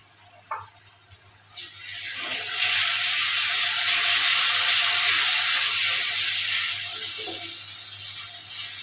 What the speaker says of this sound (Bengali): হলুদ আর পেঁয়াজ আমি একসাথে ভেজে নেব।